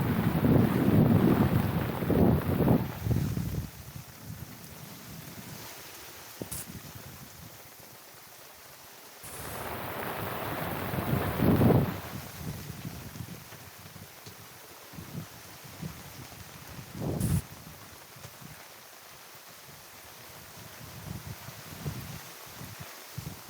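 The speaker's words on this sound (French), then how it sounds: "je suis entouré d'orage. C'est le lever du jour. Et il commence à pleuvoir" Wind buffets a sailboat at sea at dawn as a thunderstorm closes in and rain begins, loud gusty roars swelling and fading in bursts over quieter stretches of hiss and water noise.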